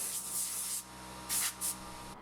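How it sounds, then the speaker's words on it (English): An air duster fires three short, close, sharp hissing blasts to clean dust off an old sea chest, with brief pauses between bursts. "used the air duster to give it a good clean down"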